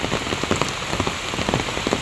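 Heavy, steady rain pours down during a typhoon with strong wind, drumming densely on surfaces around a house among trees, loud and close with no voices.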